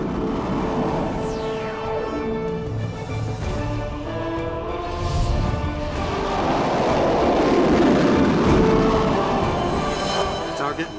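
Two Rafale fighter jets fly a linked scouting mission, their broad, steady roar rising toward the end with sweeping whine tones, while a voice talks over it.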